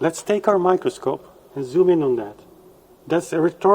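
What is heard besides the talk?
No distinct noise like a dog, phone or traffic.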